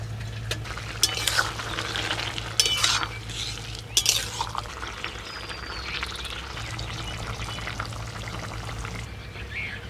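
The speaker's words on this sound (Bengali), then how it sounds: "এবার ভেজে রাখা মোড়না মাছগুলো দিয়ে দিচ্ছি" Fried mourala fish tipped into a simmering curry and stirred, with a steady low bubbling throughout, brief clinks and scraping of utensil against the pot near the start and around four seconds, no talking.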